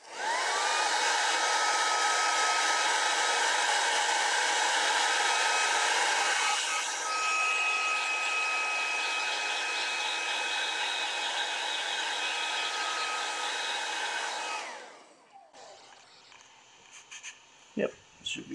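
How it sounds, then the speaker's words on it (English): A hair dryer blows steadily with a loud whooshing whine for about fifteen seconds, changes pitch briefly, then shuts off, leaving quiet rustling. "let me get the blow dryer. Just gonna hear the blow dryer for a second."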